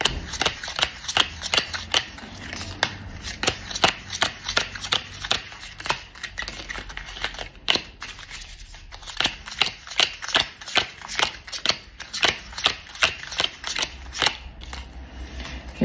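Tarot cards are shuffled by hand in a rapid run of crisp riffling and flicking sounds, close and fairly quiet, repeating steadily with only short breaks.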